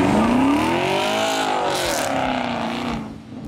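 A gasoline mini car and a Camaro V8 race side by side, with a loud, close engine roar that rises in pitch as they accelerate and then fades slightly at the end, with no talk.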